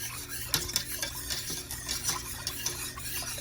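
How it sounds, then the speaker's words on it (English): Milk being whisked into a sauce in a pot, a quick continuous rhythm of close metallic taps and scrapes over a soft background hiss, with no talking. "And now we're going to whisk it up."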